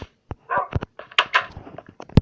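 Dogs bark in a video game, a string of sharp close yaps and short whimpering cries with quiet gaps between them.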